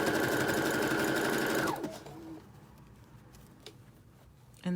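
Sewing machine stitching a zigzag seam on a plain t-shirt, a loud fast whirring run for under two seconds that winds down, then quiet handling clicks and a brief restart at the end.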